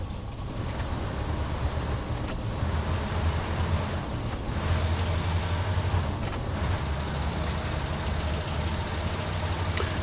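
Steady low engine rumble of a recon tank driving in the video game Hell Let Loose, continuous and fairly loud for the whole stretch with slight variations in tone and no voices.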